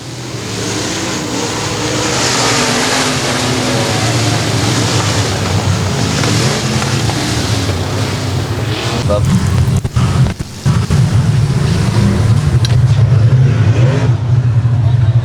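Race cars at Boothill Speedway thunder down the back straightaway and into turns three and four, a loud, rough roar of engines that swells and churns while an announcer talks over it, with crowd noise near the end.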